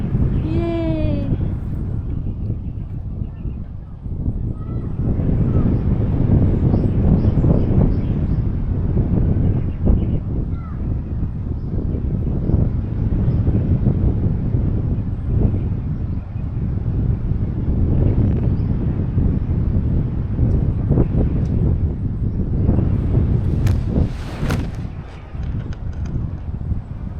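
Loud, constant wind roars and buffets across the microphone for the whole stretch while paragliding in Valencia, Bukidnon, with occasional voices shouting over it.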